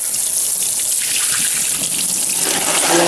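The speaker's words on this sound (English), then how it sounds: "I will run hot water over it." Hot water runs from a kitchen tap over a container, a steady close hiss and splash of flowing water with a slight change in tone near the end, no voices.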